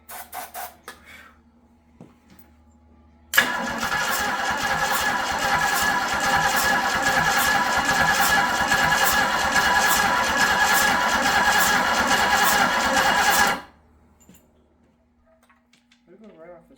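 A boat engine fitted in a Bronco cranks and catches, then runs at a loud, steady, rough drone for about ten seconds before cutting off abruptly, with quiet surroundings before and after.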